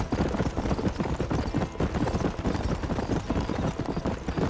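Horse hooves galloping at a fast, steady clip-clop rhythm in Red Dead Redemption, loud and close throughout with no talk over them.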